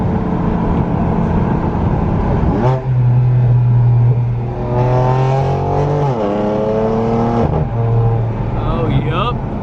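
BMW F82 M4 driving on a road, its engine droning steadily close up and rising and falling through revs and gear changes, with speech over it.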